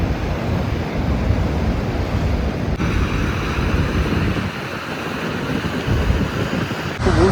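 Niagara Falls water rushing and pouring down, a broad, steady roar heard nearby with wind buffeting the microphone, loud and continuous with no talk.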